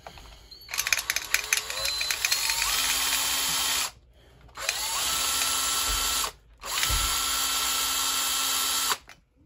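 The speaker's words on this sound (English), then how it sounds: "hope I don't break the drill bit." A power drill whines loudly and steadily in three long bursts separated by brief pauses, with a high mechanical hum throughout, while drilling on an SMT10 RC monster truck.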